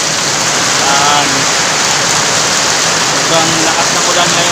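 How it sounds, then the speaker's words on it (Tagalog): Heavy afternoon rain pouring down in a dense, steady roar across surfaces, loud and close, with a voice speaking faintly beneath it. "Sobrang lakas ng ulan ngayong hapon."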